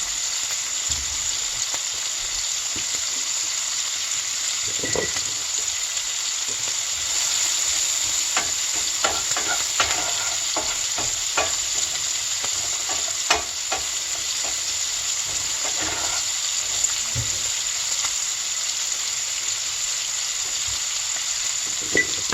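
Scallions sizzling and frying in a pan while being cooked to golden, a steady close crackle with scattered stirring clicks and pops throughout, no voices.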